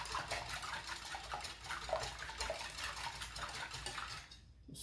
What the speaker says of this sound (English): I got 5 eggs in this bowl right here. Whisk this together.